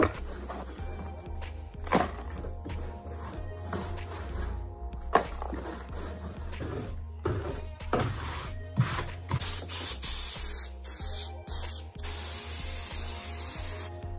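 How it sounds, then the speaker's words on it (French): A compressed-air blow gun cleaning the lower pulley area of a door, heard first as clattering tool handling, then strong, steady hissing blasts of air that grow loud and continuous near the end. "on nettoie bien tout ça avec une brosse et ensuite un coup de soufflette"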